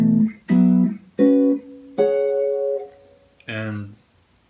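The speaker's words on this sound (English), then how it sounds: "So here's the line played as chords." Four sustained jazz chords in fourths voicings, each struck then held about a second, with a final shorter chord; clear and close, no talking.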